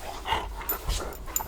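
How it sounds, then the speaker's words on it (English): A new puppy makes soft whimpering and yipping sounds, a few short high-pitched cries scattered over a low background rumble, fairly close and not loud. "We have a new puppy that thinks that every second of the day is playtime."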